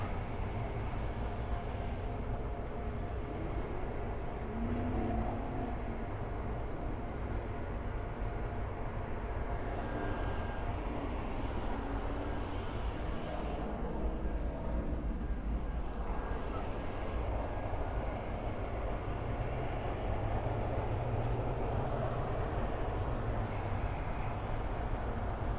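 An AeroMexico airliner taking off at Miami airport, a broad steady jet roar that swells and holds for the whole stretch, distant and rumbling without letup.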